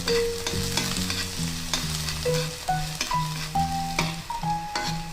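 Garlic frying in hot cooking oil, a steady close sizzle with utensil stirring, while tonal music plays over it throughout; no talking.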